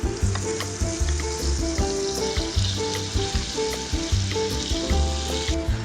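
Flour cooks in clarified butter for a white roux, frying with a busy, close sizzle and crackle under regular scraping strokes of the spoon, and no one speaks.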